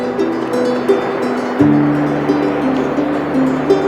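Rushing, churning river water swirls around a person wading in cold water, loud and close, with a sudden deeper surge partway through and a steady low whoosh like wind on the microphone.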